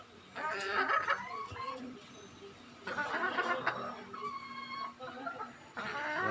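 A purebred Sweater breed hen clucks close by in repeated bursts of nasal clucks and squawks, with brief pauses between them and faint background noise.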